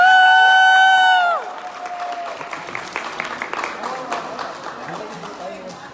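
Audience at a Hindi-language event celebrating a private school teacher claps and cheers loudly and steadily for about five seconds, with shouts rising from the crowd. A bright musical jingle plays at first, then fades.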